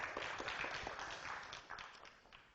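Audience applause for a speaker at a university computing conference, a dense crackle of many hands clapping at steady loudness through the whole clip and tapering slightly at the end.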